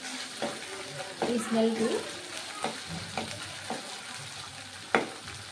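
Ginger garlic paste sizzles and fries in a pan for a mushroom masala curry, with steady crackling and stirring scrapes and a few sharp clinks, while a voice speaks briefly.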